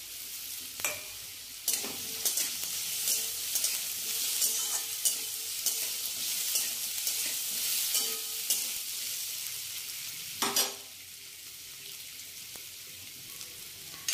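Ginger stirred into hot oil in a frying pan while cooking palak, a steady close sizzle with scraping spatula stirs and a few sharper clinks throughout.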